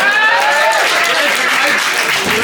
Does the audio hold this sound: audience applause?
yes